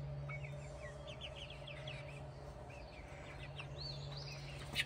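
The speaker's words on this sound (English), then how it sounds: "Got a couple of blobby chickens." Chickens clucking softly at some distance, a faint run of short chirpy calls over a steady low hum.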